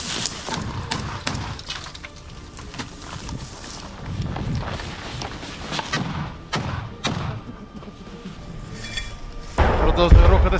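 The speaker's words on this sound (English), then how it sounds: "Чуєте, стріляють." Gunfire during a battle in a village as Ukrainian troops advance toward its centre: scattered sharp reports and dull thuds crack at middle distance through a rustling, noisy field recording, with a heavier burst near the end.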